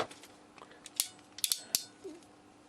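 A Klauke EK 50ML ratchet crimp tool crimping cable lugs on 4 to 6 mm² cable, giving a few sharp, close ratchet clicks and clacks spaced irregularly over quiet handling noise.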